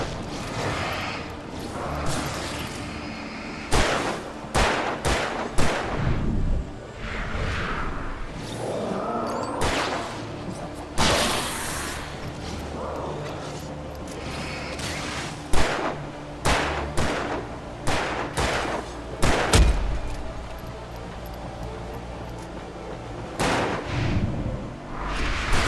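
Repeated gunshots and heavy blasts go off in the game Alan Wake Remastered, a dense, chaotic barrage mixed with whooshing sweeps and mechanical clatter that keeps going the whole time.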